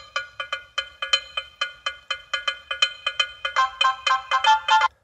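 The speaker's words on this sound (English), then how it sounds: "we kind of created or made available ringtones that were a specific WAV format" An Orange SPV mobile phone plays a WAV-format ringtone, a bright, electronic series of rapid chiming beeps in a quick rhythm that grows denser toward the end, loud and clear with no talking.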